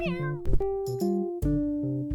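A cartoon cat in the video game Six Cats Under meows after being woken, giving several close, clear meows, some short and some drawn out with falling pitch, over quiet game background.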